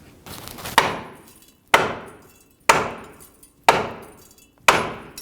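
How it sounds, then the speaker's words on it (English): Five sharp metallic hammer blows on a steering knuckle of a Ford Ranger, at a steady, unhurried pace, each ringing briefly and fading before the next strike; close and loud, no voices. "you could just cause vibration with a hammer"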